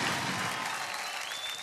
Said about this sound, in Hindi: जोरदार तालियां हो जाए साजन के लिए